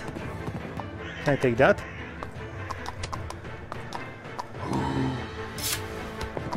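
A horse in a fantasy arena combat game whinnies loudly and its hooves clip-clop amid game effects, with a person talking over the action.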